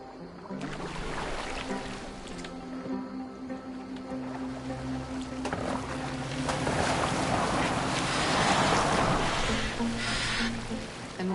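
Viking longship moving over open water in Assassin's Creed Valhalla, with a continuous rush of waves and wind that builds slightly and persists throughout, alongside a low ambient hum.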